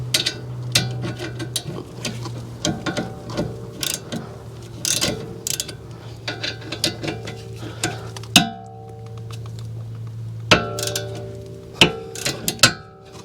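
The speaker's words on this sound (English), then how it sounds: "now we need to loosen and remove these 2 caliper slide pin bolts." A ratchet with a 14mm socket works the caliper slide pin bolts on the rear brake of a 2020-2024 Toyota Highlander, giving irregular clicks and metallic taps over a steady low hum.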